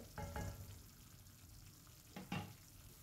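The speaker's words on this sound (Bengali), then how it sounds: "কাজু দেওয়ার পরে কিন্তু এটাকে সমানে একটু নেড়ে নিতে হবে, নাহলে তলায় লেগে যেতে পারে" Cashew paste is stirred in a frying pan, giving a quiet, low sizzle and two brief scraping bursts from a spoon moving across the pan.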